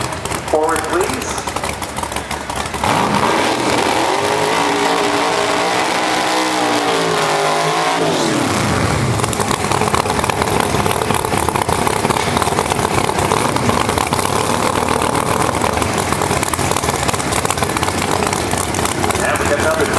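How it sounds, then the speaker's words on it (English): Jet dragsters at a live drag race roll forward through the staging lanes, a loud, continuous roar with a rising, sweeping whine that fades into a broad, steady rumble, with people talking underneath. "Jet cars, could you pull forward, please?"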